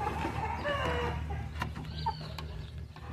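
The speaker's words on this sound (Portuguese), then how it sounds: "tem vários frangos ali" Free-range chickens, young hens and a cockerel on a farm, clucking and calling close by in short bursts, fairly quiet over a low background hum.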